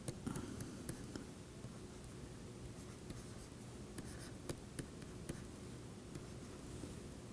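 Chalk or a marker writing equations on a board during a differential geometry lecture on thin shells, producing faint, soft scratching strokes with occasional sharp taps, distant and quiet in a room.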